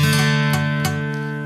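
A guitar chord strummed across the top four strings with poorly placed fingering, a single ringing chord with a couple of short muted buzzy strokes, played alone.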